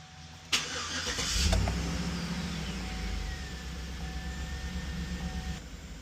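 A 2007–2014 Chevy Tahoe with a 5.3L V8 cranks briefly and fires up after an oil change, then settles into a steady, close idle with a faint falling whine; no one speaks.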